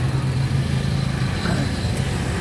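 Heavy road traffic passes nearby, a constant low rumble of car engines and tyres with a faint rise as vehicles accelerate, filling the background with no gaps.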